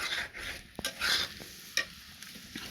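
Pieces of rohu fish going into a simmering curry in a pan, with a soft bubbling sizzle and a few brief spoon scrapes and knocks, close by and without speech.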